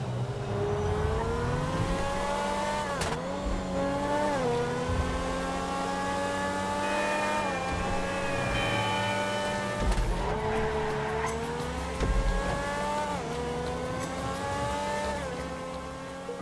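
A Grotti X80 Proto supercar in GTA laps a test track, its engine revving up and down through gear shifts with squealing tires in the corners, loud and close throughout with no voices.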